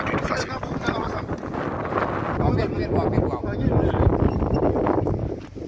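Wind gusting through a forest, a loud, steady rush and buffeting against the microphone that swells and fades across the whole stretch, with a voice speaking over it.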